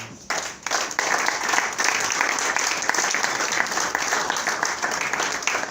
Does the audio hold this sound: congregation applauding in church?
yes